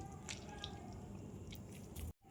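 Boiled soybean chunks are squeezed by hand to press the water out, giving a faint, soft wet squish with light drips, close and quiet with no talking.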